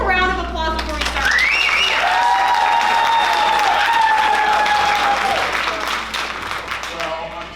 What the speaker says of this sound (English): Let's give them a round of applause before we start.